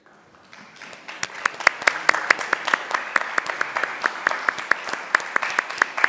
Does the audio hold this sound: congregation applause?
yes